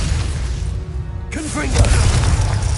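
A fiery Confringo spell blast from Hogwarts Legacy bursts out with a sudden broadband boom midway, followed by crackling burst tones, loud and close, with game background and faint voice around it.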